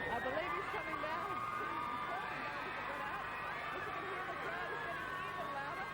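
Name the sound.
crowd waiting for Michael Jackson's arrival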